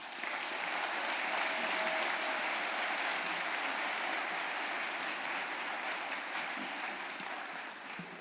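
A commencement audience at Penn State Abington applauds to welcome Mary Alice Williams. The sustained, dense clapping fills the room evenly throughout and fades slightly at the end.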